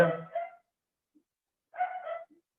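A dog gives two short bursts of barking a second or so apart, fairly close, with near silence between.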